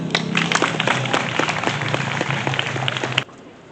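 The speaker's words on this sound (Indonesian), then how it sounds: "Tepuk tangan." Millennial crowd at a Tasikmalaya eatery gives a round of clapping, with a busy patter of hands for about three seconds under a faint musical tone, then stopping abruptly.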